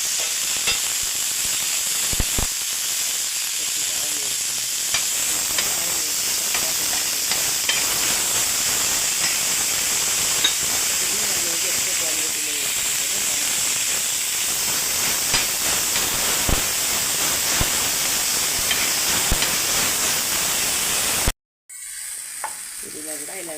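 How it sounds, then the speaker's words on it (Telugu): Fresh mint leaves fry in a hot pan with a continuous close sizzle and hiss, broken by scattered stirring clicks and scrapes, then a brief drop to silence near the end before the frying resumes; no one speaks. "పుదీనా కూడా ఇలా వేయించుకోండి"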